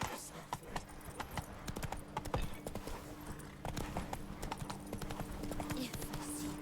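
Horse hooves clip-clopping at a steady trot in The Witcher 3, crisp repeated footfalls close up, with a voice speaking over the rhythm at times.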